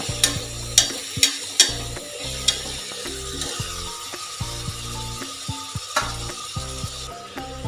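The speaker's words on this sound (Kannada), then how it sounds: "ನೋಡಿ, ಇದೆಲ್ಲ ಸ್ವಲ್ಪ ಎಣ್ಣೆಯಲ್ಲಿ ಫ್ರೈ ಆಗ್ತಾಯಿದೆ." Spices and tomato frying in oil in a pan for dum vangibath, a light sizzle under repeated sharp metallic scraping and clacking of a spatula stirring at an irregular rhythm, close up with no talking.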